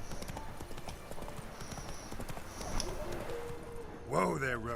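Hooves of the horse Roach clip-clop in a steady galloping rhythm across open ground in The Witcher 3, close and clear, before a voice speaks near the end.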